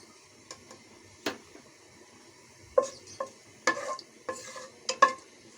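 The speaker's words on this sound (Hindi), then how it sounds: "1 कप ऑयल मैंने डाल दी है, इसमें मैं ज़ीरा डाल रही हूँ।" Cumin seeds hit a cup of hot oil, giving scattered, faint crackles and sharp pops with quiet gaps between them, with no voices.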